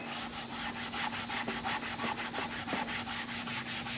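Hand scuffing the surface of a factory valance on a Silverado before painting, a rhythmic back-and-forth rubbing with steady strokes about every quarter second, close and moderately quiet, with no talk.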